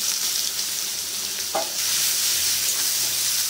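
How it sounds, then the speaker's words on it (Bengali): A steady, close sizzle of chopped onions frying in hot oil, with a brief scrape of stirring partway through. "একটু লাল করে ভেজে নেব।"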